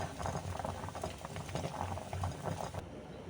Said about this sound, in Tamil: பாருங்கள், ரசம் நல்லா கொதிக்குது